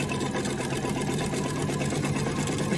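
A sewing machine runs steadily, stitching a quarter-inch seam on a Christmas tree table runner, its dense, even motor whir and rapid needle chatter continuous and close throughout.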